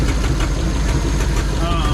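A 1940 Mercury flathead V8 idles loudly and steadily up close with a low rumble, its exhaust manifold cracked across and the pipe holed, while someone talks over it.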